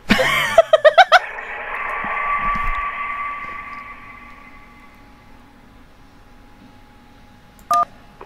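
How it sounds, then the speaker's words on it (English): A phone ringing underwater as a video game sound effect: a quick burst of tones up front, then a long muffled ringing hum that slowly fades, with a short clipped tone near the end. "That was a phone ringing underwater."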